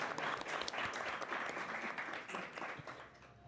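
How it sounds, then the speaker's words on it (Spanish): Audience applause at a university finance and tax panel event in Ecuador, a dense wash of many hands clapping steadily at close range, holding strong before easing slightly toward the end. "Un aplauso para Mariela, por favor."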